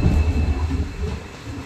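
Kollam to Chennai Egmore Express standing at a quiet station platform in Kerala, giving off a low, steady rumble and hum close by, with no voices over it.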